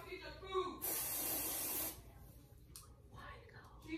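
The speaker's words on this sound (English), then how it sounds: "Yes, I'm putting on deodorant." A Dove Dry Spray Go Fresh aerosol deodorant sprays in one steady hiss lasting about a second, close to the mic, with a person talking softly before and after.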